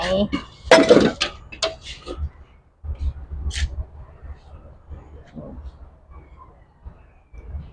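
Curry of stir-fried beef in red curry paste with pickled bamboo shoots being scooped into a dish, the utensils giving sharp clinks and scrapes, loudest at the start. Someone talks throughout.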